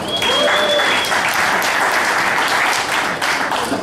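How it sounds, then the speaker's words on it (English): Warm applause from the crowd at a poker tournament's final table, dense and loud, many hands clapping in a continuous roar that stays strong from start to finish. "A nice warm round of applause for Ronald Lee."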